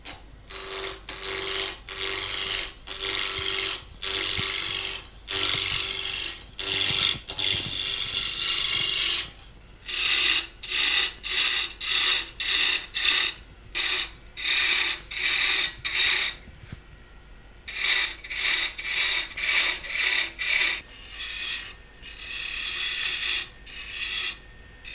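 A wood lathe spins a padauk blank at high RPM while a sharp gouge cuts into it, giving repeated bursts of hissing, rasping shavings with short pauses between passes over the steady motor hum.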